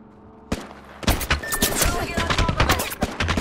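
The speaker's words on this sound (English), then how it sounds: "Getting shot at." Rapid bursts of gunfire from a Wraith killing spree in a shooter game, dense automatic fire with sharp impacts after a brief quiet start, loud and close throughout.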